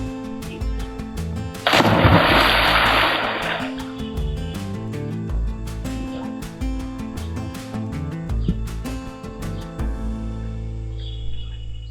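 A diver jumps into the water, raising a loud broadband splash that bursts in and roars for about two seconds, then settles into fainter bubbling and movement beneath steady background tones.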